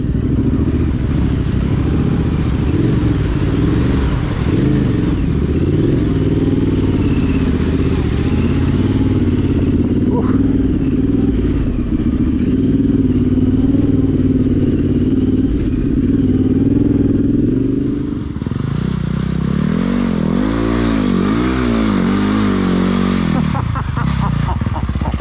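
A Yamaha Tenere 700 motorcycle engine drones loudly while riding, a steady close rumble with wind noise and shifting engine pitch as it slows and revs near the end, with a rider's voice under it.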